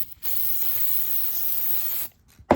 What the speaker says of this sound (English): if you don't spray them first, if you don't make sure the cases are well lubricated